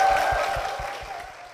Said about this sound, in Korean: 김선아 권사님 박수로 모시겠습니다